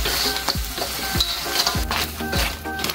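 Shrimp and crab sizzle loudly in a hot pan while a utensil stirs and scrapes through them in regular strokes, the frying hiss continuous and close.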